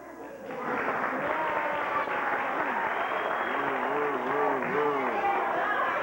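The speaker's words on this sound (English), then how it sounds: "In show business, we call it sympathy applause." Scattered, half-hearted applause from an audience at a magic show runs steadily for about six seconds, with voices and chatter carrying over the clapping.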